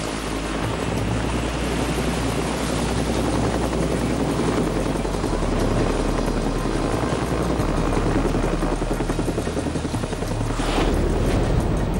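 A CH-47 Chinook twin-rotor military helicopter roars steadily and close for the whole stretch, its loud, thumping rotor wash dense and unbroken, with no voices over it.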